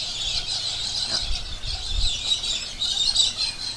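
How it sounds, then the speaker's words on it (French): A flock of galahs calls in Alice Springs, in the Australian desert, with shrill, squealing screeches overlapping continuously, fairly loud and close, over a low rumble. "vous avez entendu les galas qui se déplacent en nuée"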